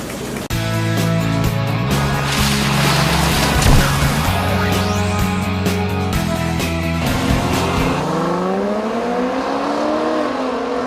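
A 2015 Dodge Charger SRT Hellcat sedan's supercharged engine roars loudly and continuously, revving through rising and falling tones close by, with no talking.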